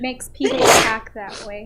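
A single loud, close sneeze bursts out in the middle of a conversation, with a person talking just before and after it.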